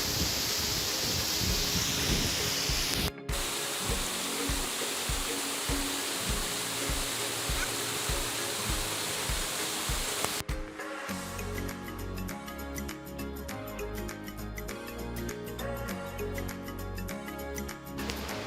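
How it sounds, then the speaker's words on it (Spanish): The Cascada del Brazal, a 30-metre waterfall on the Palancia river at Salto de la Novia near Navajas, Spain, gives a steady, rushing roar for about ten seconds before music takes over. "acoge la cascada del Brazal, un salto de agua de 30 metros"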